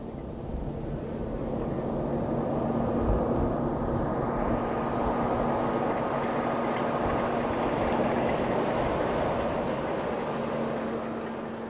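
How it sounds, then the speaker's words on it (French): Steady motor drone of a vehicle heading back toward civilization in Tunisia, a loud continuous hum with a low tonal whine that holds evenly throughout, with no talking over it. "le bruit du moteur marque le retour à la civilisation"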